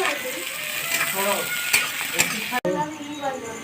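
Onion and whole garam masala fry in hot oil in a wok, giving a steady, bright sizzle with a few clinks from stirring and a brief break near the end.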